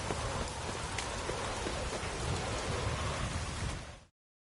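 Heavy rainfall in Witcher 3: Wild Hunt, an even, unbroken hiss with scattered droplet ticks, held at a steady level before cutting off abruptly near the end.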